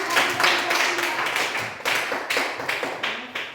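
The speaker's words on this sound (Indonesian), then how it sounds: "Tepuk tangan" Children applauding in a classroom after a reading, a burst of uneven clapping that swells and fades over a few seconds, close and fairly loud with a faint murmur of voices.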